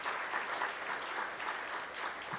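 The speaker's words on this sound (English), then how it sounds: "how about a round of applause to thank the sponsors and welcome the students" Applause from an event audience thanking sponsors and welcoming students, a soft, even wash of many hands clapping that holds steady from a moderate distance with no talk over it.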